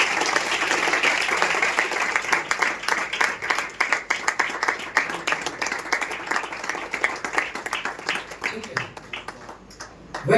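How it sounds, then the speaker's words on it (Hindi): A worship congregation bursts into loud, close applause of praise, dense clapping that thins into scattered claps before swelling again at the end. "स्तुति की तालियां दें"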